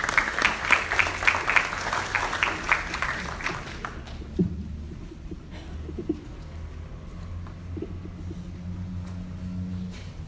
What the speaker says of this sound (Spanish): Le damos un buen aplauso al señor Elio Béjar